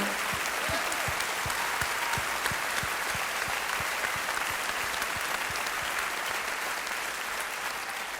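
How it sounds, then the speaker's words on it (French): A concert audience at the Olympia applauds loudly and steadily, filling the hall with dense, continuous clapping from start to finish. "On peut les applaudir parce que c'est grâce à eux."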